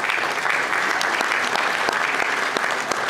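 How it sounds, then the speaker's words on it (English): Loud, steady audience applause at a variety artists' awards night as a ventriloquist and his dummy come on stage, dense clapping filling the whole moment with a few sharper claps standing out near the front. "Give him a nice big round of applause."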